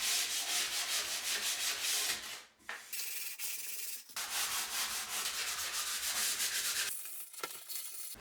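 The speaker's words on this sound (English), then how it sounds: "we're going to lightly sand it" Hand sanding of painted wooden bathroom cabinets makes a steady, close, raspy rubbing with short back-and-forth strokes, broken by brief pauses. No one talks.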